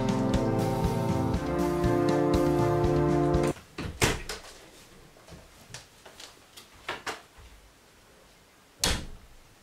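A door bangs shut with a sharp knock, followed by scattered clicks and thumps of handling and latching, then another firm knock, after a stretch of steady tonal music.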